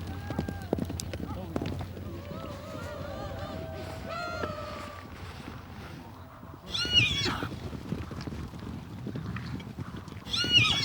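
Horses of the nomadic steppe with hoof clip-clops and whinnies, mixed with music and ambient sound; a louder burst of neighing and hoofbeats comes near the end.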